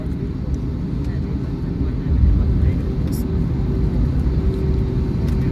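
Steady low cabin roar of an airliner in flight between Kathmandu and Delhi, a constant dense rumble with a slight swell midway and no clear voices.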